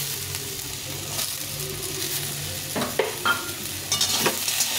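Radishes lightly frying in a little oil, giving a soft, steady sizzle, with a few louder stirring scrapes near the end of the short stretch.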